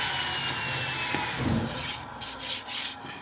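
A table saw whines at high speed and then bites into veneered plywood, its tone dropping into a rough cutting rasp before fading into softer scraping and rubbing, close by with no talk.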